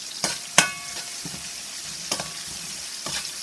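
Garlic and onion saute in oil with a low steady sizzle, broken by a few sharp clinks and scrapes of a utensil against the pot, close up with no talking.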